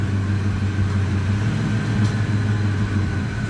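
A 1990 Ford Mustang engine idles steadily just after starting, a loud, close, continuous low rumble with no pauses or talk.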